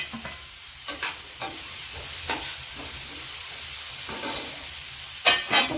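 Chicken masala with garlic and tomato sizzles and fries steadily in a pan as potatoes are added, a constant hissing fry punctuated by a few scraping stirs, close and without talk.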